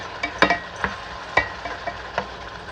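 Alamang shrimp paste frying in a pan, a soft sizzle with a handful of sharp clicks and taps as it is stirred, fairly quiet and close.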